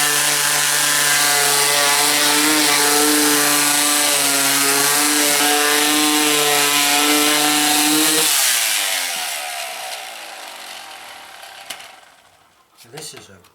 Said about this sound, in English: I'm just going to sand it off and rough up this thing a little bit.